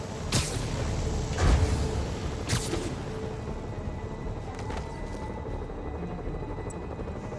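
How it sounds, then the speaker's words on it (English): A helicopter in Marvel's Spider-Man drones with a steady low rumble, punctuated by a few sharp bursts early on, all within a game soundscape. "Bet I can use those helicopters to swing."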